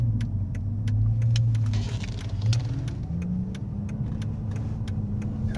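A 2007 Mercedes-Benz S550 driving, heard from inside as a low, steady engine and road hum, with faint ticking clicks repeating over it throughout.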